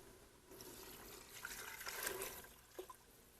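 Low-sodium stock pours into a cooking pot for an Italian soup: a soft, faint liquid splash running for a couple of seconds, with a few small splatters near the end.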